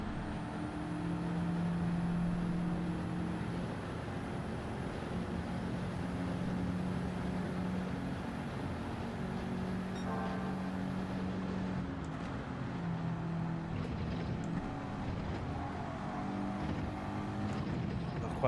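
Race car engine in Gran Turismo 7 while slipstreaming a GTR, a steady droning hum with a sustained whine and a faint shift in pitch midway, continuous and moderately loud.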